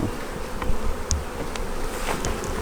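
Honeybees buzzing around abandoned beehives, a steady dense drone of many insects close by with occasional louder passes.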